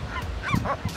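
A large bird giving short honking, grunting calls during mating season, two or three brief nasal notes close by.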